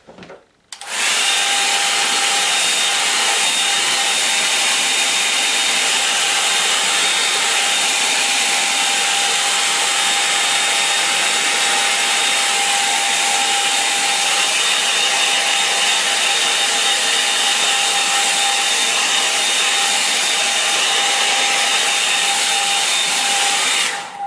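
Hair dryer blowing on a watercolour painting of autumn shades at Mitcham Common, a loud steady whooshing roar with a faint whine that starts abruptly and runs unbroken for over twenty seconds, with no talking.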